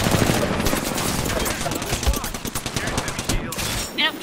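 Rapid automatic gunfire from the video game Apex Legends rattles in a loud continuous burst, with dense overlapping shots and a brief pause near the end. Voices can be heard under the shooting.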